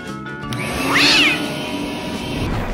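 A cat lets out a single loud, drawn-out meow that rises and falls, close and clear over a noisy background, with no one talking.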